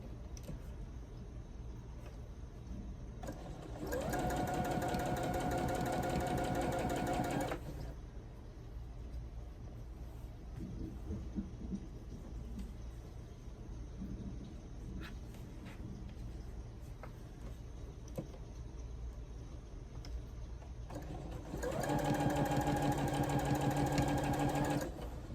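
A home sewing machine runs on its own while stitching a quilt. Two rapid mechanical whirring runs, each a few seconds long, stand out against a quiet room with no talking.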